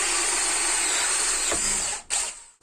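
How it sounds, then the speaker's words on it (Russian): A power drill with a hole saw cuts through a plastic barrel plug, giving a loud, continuous grinding whine. It breaks through with a brief catch and stops abruptly near the end. "И по центру сейчас сделаю короночкой сквозное отверстие."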